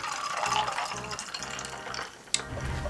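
Ginger beer pours into a Moscow Mule, a steady fizzing, splashing stream of liquid into a glass that runs for a couple of seconds, followed by a short knock and continued bubbling.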